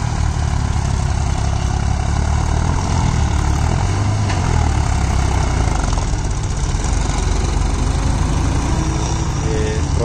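A New Holland 3630 tractor engine runs steadily at a loud, even idle-like rumble, close by and unbroken for the whole stretch, with no voices over it.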